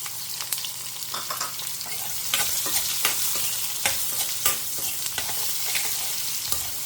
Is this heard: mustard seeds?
yes